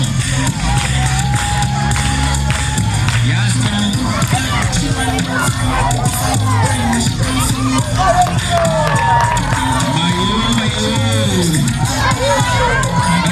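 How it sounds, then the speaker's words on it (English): A talent show crowd cheers, whoops and shouts loudly and continuously, a dense wall of noisy audience sound with a voice speaking over it. "I need you to clap also."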